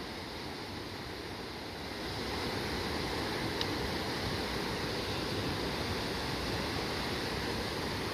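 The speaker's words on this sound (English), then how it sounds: "Look at that waterfall over there." Steady broadband rush of falling water from a waterfall beside a creek trail in the Silver Peak Wilderness, heard from a short distance and swelling slightly after the first couple of seconds, with no voices.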